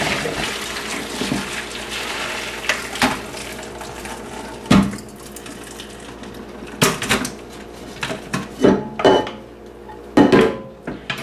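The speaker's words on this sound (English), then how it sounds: "it will already heat up while I'm draining my pork" Boiled pork for sinigang is drained in a kitchen, with a wash of pouring water under clattering pots, a lid and utensils knocking in scattered bursts, growing busier toward the end.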